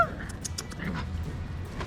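Australian Cattle Dog miniature puppy whimpering in short high yips and whines, close by, with a low indoor background rumble.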